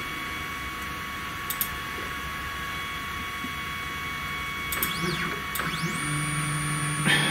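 A 3018 CNC router carves at 1,000 mm per minute, its stepper motors giving a steady whine over a constant hum, with short rising and falling tonal sweeps as the axes change direction near the end.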